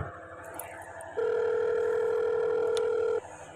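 A phone call's ringing tone sounds as a single steady electronic beep lasting about two seconds, clear and fairly loud over faint background noise.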